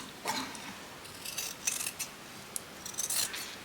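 Scissors snip through fabric near a ruffle in a series of short, close, crisp cuts with small pauses between, quiet and without speech.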